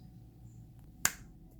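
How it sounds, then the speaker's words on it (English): A single crisp finger snap, close and sharp, standing alone over faint room quiet during assembly of a metal storage cabinet. "All you gotta do is snap your fingers."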